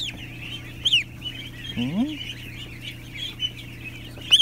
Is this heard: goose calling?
yes